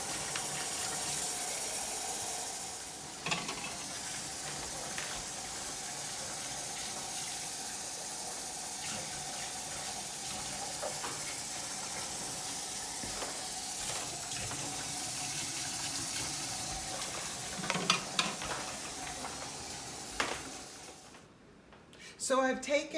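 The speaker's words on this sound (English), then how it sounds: "So I've taken each jar and I've placed water in them, warm water, in halfway." Warm tap water runs steadily into pint jars for pressure canning with a Presto canner, a continuous splashing flow with brief clinks, ending in a pause and a few bumps.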